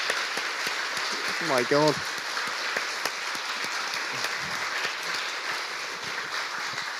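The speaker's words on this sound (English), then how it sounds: "That's why they're applauding." Cambridge Union audience applauding Max Fosh, a dense, steady roar of clapping that fills the whole stretch at close range, with a brief spoken exclamation cutting through early on.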